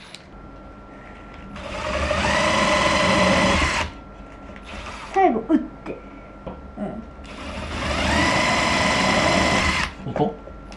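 A Star M bamboo drill bores holes in bamboo for a bamboo lantern, giving two long whirring bursts a few seconds each with a shorter bite between them, close up, while people talk in the pauses.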